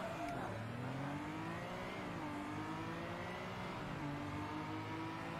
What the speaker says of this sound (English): That's a beautiful engine noise.